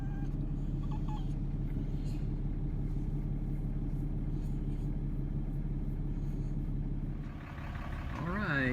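Pickup truck towing a fifth wheel trailer, heard from inside the cab as a steady low engine and road rumble, with a rising whine and shift in tone near the end.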